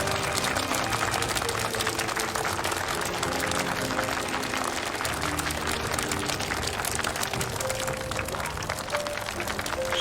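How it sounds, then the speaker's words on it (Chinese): Dense, continuous applause from a crowd greets the groom at an engagement ceremony, a steady wash of many hands clapping, with faint music tones underneath and no talking. "首先，让我们掌声邀请今天的准新郎焦阳先生帅气登场"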